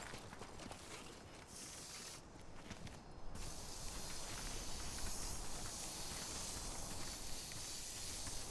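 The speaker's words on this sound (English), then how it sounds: "I got to use my spray." A spray can hisses continuously during play of the video game Death Stranding 2, a steady broadband hiss of steam-like spray that fills the whole stretch, with a short dip in the highest hiss near the start.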